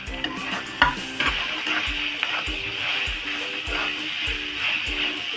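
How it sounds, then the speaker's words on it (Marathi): Roselle (ambadi) leaves are tossed into a hot pan and stirred, with a steady loud sizzle of frying and rhythmic scraping strokes of a spoon against the pan, close up. "आणि आता आपण ही भाजी आहे ना याच्यात टाकून घेऊया"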